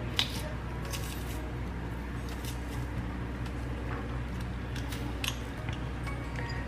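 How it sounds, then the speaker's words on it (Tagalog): Garlic is minced in a handheld garlic chopper, giving repeated soft squishing and clicking chops at close range over a low steady background hum. "using garlic chopper or mincer."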